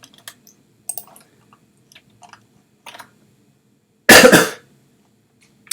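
A single loud, harsh cough bursts out close to the microphone during a quiet software-testing session, preceded by faint keyboard clicks and small mouth noises.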